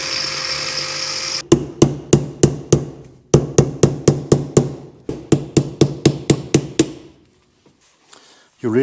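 Bearings being hammered in or out of a BMW E36 188mm limited-slip differential, a loud close series of sharp metallic strikes in steady rhythm, two runs with a short break, ending in quiet.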